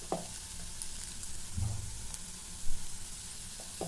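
Ginger garlic paste and turmeric being stirred in a pan for beans curry, a soft steady sizzle with a few scraping spoon strokes and light clunks, close and moderately quiet.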